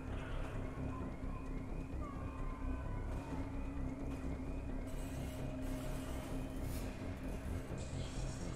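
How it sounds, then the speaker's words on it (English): An alarm sounds aboard a space station in Mass Effect 2. It is a wavering, siren-like tone over a steady low mechanical hum, running continuously at moderate level. "Oh, that was a car alarm. It's an alarm on the station."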